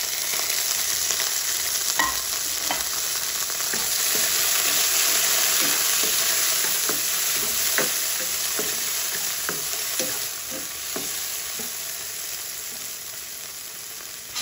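Onion and tomato sautéing in a pan for an Ilonggo kadyos, baboy and langka dish: a continuous sizzle with repeated scraping and clicking stirring strokes throughout.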